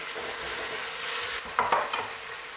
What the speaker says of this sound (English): The next thing is to add our onion and keep stirring.